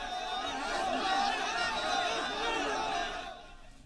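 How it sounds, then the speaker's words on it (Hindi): A dense, angry crowd outside a hospital in Bihar shouts slogans together, a sustained roar of many voices that stays loud and then drops off near the end. "बाहर भीड़ नारेबाजी कर रहे थे"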